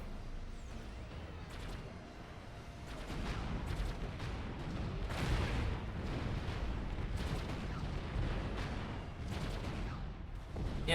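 Tanks fire during a StarCraft battle, producing a dense, continuous run of booming blasts and crackling bursts that grows fuller after the first few seconds.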